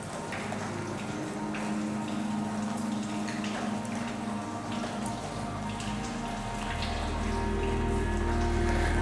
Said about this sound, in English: All the raindrops.